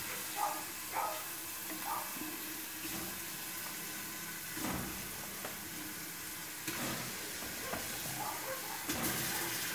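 Fish pieces sizzle in a pan with garlic, onion and colorau, a continuous hissing fry with a few soft stirring bumps and watery crackles throughout, moderately loud and steady.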